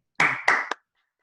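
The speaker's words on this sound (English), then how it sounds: "Let's have a round of applause for all three of them." A few people at a Toastmasters club meeting give a brief round of clapping, three distinct close claps in quick succession followed by silence.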